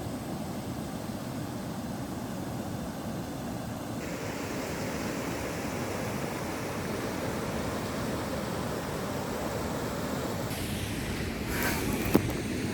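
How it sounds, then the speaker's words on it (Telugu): Steady, dense rush of a waterfall and river water on a hike at Mahal Waterfalls in Gujarat, a loud unbroken roar that holds even from start to finish with no voices. "సో అది వాటర్ ఫాల్"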